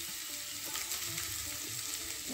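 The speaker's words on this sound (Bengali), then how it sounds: "আর গাজর কুচি দিয়ে দেব," Chicken and chopped carrots frying in a pan, a steady close sizzle with faint scraping and a sharp clink at the very end.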